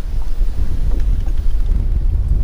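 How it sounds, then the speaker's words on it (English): Wind buffets the microphone at an outdoor bass fishing spot, a steady loud rumbling roar with gusty surges throughout and no voices. "You guys see that wind?"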